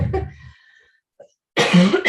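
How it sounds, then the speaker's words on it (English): A single close cough at the start, followed by a brief pause and then a louder throaty burst. "I'm going to get a good cough out of the way."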